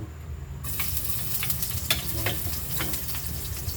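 Garlic sautéing in hot cooking oil in a pan, a sudden burst of dense sizzling that then holds steady with scattered crackles and pops, close and fairly loud, with a low background hum and no talking.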